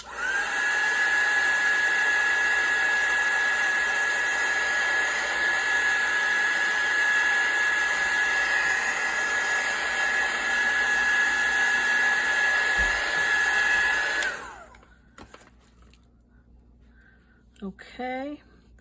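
A heat tool drying ink on an altered playing card journal: a steady loud whirring blower tone running for about fourteen seconds, then cutting off, leaving quiet handling noises and brief talk.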